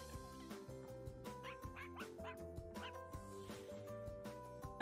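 A dog in The Sims video game trailer gives several short yips and whimpering barks over a bright, busy layer of music, the calls coming in quick irregular bursts.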